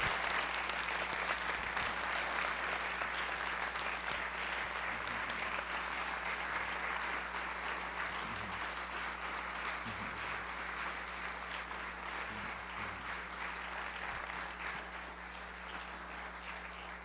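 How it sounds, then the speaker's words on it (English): An audience applauding student presenters at a Cornell Lab of Ornithology event, long sustained clapping from a sizeable crowd, steady and full throughout, slowly easing near the end. "I think this is a moment for applause."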